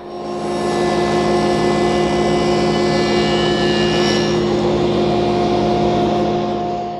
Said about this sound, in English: I'm steering the panel with a couple push blocks. This lets me control the cut while keeping my hands away from the blade